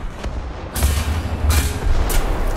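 An AMX-13 light tank cannon fires in War Thunder, three loud close booms in quick succession over rumbling engine and battle noise.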